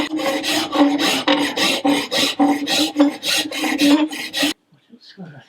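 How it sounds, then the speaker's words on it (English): Hand file rasping on metal pieces clamped in a vice, a steady series of about a dozen rhythmic back-and-forth strokes, close and loud, ending abruptly in quiet. "And then I work from here, filing them down."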